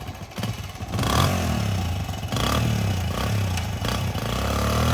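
Used 2004 Kawasaki KLX125L youth dirt bike engine running alone nearby, a steady mid-pitched putter with light mechanical clatter and slight rises in revs.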